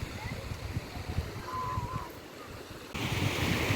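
Black Sea waves breaking behind a pier on an Odesa beach, a continuous close wash of surf mixed with wind noise on the microphone, steady throughout with a louder rush near the end.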